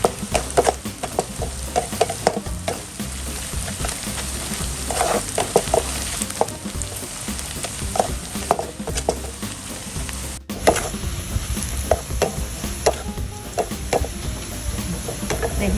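Shallots crackle and sizzle in hot oil as they fry until crisp, a steady bubbling hiss broken by a few clinks of stirring, close and loud with no voices.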